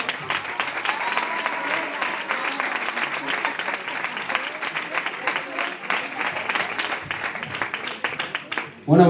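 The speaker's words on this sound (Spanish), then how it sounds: "Damos un aplauso para el Señor." Congregation applause in a Spanish-speaking church service, continuous dense clapping from many hands sustained for about nine seconds at even loudness, ending abruptly as a voice begins.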